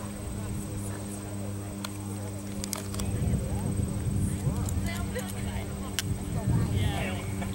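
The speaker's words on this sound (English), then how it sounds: "Sundown's Kid, a 15-year-old quarter horse from Garden Ridge, Texas." A 15-year-old quarter horse moves across a horse trials course, its hooves making a soft, irregular clip-clop over a steady outdoor hum. A public address voice talks faintly in the background.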